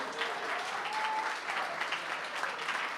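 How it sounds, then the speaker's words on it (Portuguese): A church congregation claps together at the close of a sermon, giving a sustained round of applause that holds steady and fairly loud for a few seconds. "Dê uma salva de palmas para Jesus."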